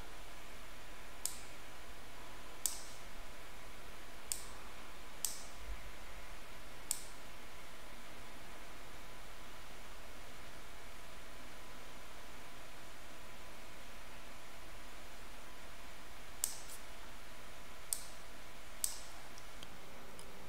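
Sharp, faint mouse clicks over a steady hiss as a box is dragged on a TradingView chart, a few scattered clicks early, then a long pause, then a second cluster near the end.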